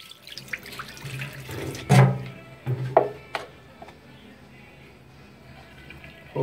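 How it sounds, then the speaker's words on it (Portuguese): Water poured from a container in which a bar of soap soaked for 24 hours, giving a few splashy gushes and trickles with quiet drips between them, close and alone. "Vou derramar aqui um pouco a água."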